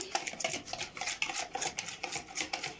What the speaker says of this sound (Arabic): همسك بقى ايه المضرب وابتدي اقلب كل الكلام ده